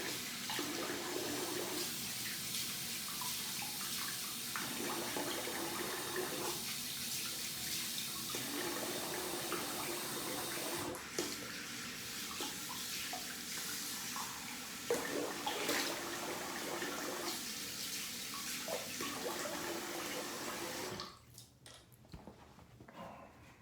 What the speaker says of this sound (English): I'm gonna rinse the face and we're done